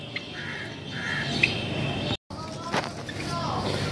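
Pet birds squawk and chirp at feeding time in a home breeding setup, sharp calls rising above a steady background hum, with a person talking at times.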